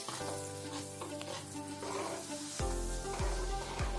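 Butter melting in a pan for a flour-based sweet, a soft steady sizzle under a backdrop of tonal music, with a few low thumps in the final second.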